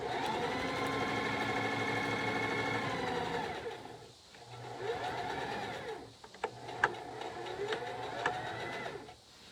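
A sewing machine stitches the box corners of a canvas bag, whirring in long runs that slow and pause briefly as the fabric pivots, then picks up again in shorter bursts, fairly quiet and close.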